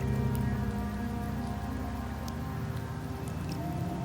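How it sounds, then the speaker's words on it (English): Steady rain falling in the video game Wuthering Waves, a dense, even patter and hiss that holds constant throughout with faint drips, no voices. "The rains in Septimont never seem eager to leave this season."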